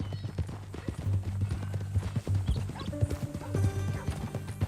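Horse hooves clip-clop in a steady rhythm in the video game Red Dead Redemption 2, close and clear, with a loud whinny breaking in partway through over a low musical backdrop.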